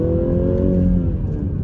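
2020 BMW 330i xDrive, 256 horsepower, accelerating: a steady, close engine drone with the pitch climbing gradually as the car pulls, heard from inside with no talking.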